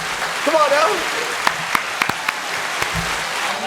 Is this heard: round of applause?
yes